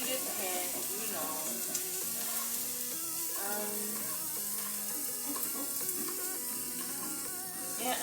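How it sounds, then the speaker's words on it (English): Chopped onion goes into a preheated pan and gives a soft, steady sizzle that stays faint under background music. "Chop my onion up in our preheated pan"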